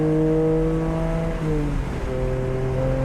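A track car's engine roars loud and steady from inside the cabin at Memphis International Raceway, its harmonics shifting as it accelerates, with the sound echoing back off a nearby wall.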